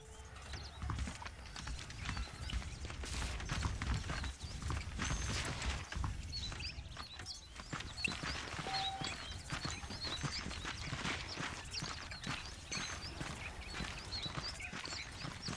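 Horse hooves clip-clopping in the Red Dead Redemption video game, a steady run of hoofbeats close by, dense and fairly loud across the whole stretch with some background game ambience.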